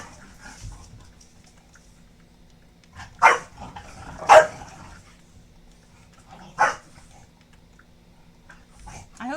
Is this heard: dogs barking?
yes